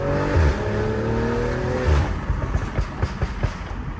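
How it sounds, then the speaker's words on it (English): A BMW M340i fitted with an aftermarket AliExpress valvetronic exhaust revs loudly through several downshifts with falling engine notes, then settles into a string of sharp crackling pops and backfires on the overrun. "Give y'all some downshifts of it. As you can see, it sounds fucking gnarly."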